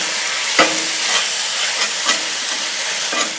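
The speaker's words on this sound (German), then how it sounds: "Einfach einmal kurz ein wenig anbraten." Meat sears in hot peanut oil in a wok with a steady loud sizzle, while a utensil stirs and scrapes in several brief strokes.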